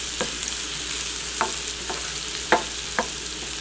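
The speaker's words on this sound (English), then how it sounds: "This sauteing method is a safer way." Collard greens sautéing with bacon, garlic and onion: a steady close sizzle of frying, broken by a few sharp clinks and scrapes of stirring spaced through the stretch, with no voices.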